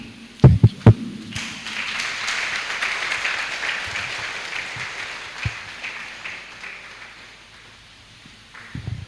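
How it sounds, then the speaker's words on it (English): An audience at a business conference in Ghana breaks into applause after a few sharp thumps, a dense wash of clapping that swells, holds for several seconds and then fades. "Please, more applause."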